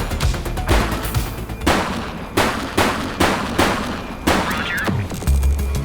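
Gunfire in the police video game The Precinct comes as repeated loud bursts of shots at a fairly regular pace, with a brief spoken radio reply among them.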